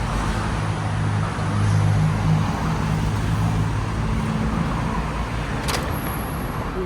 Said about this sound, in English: We braced and braved the early morning Bangkok traffic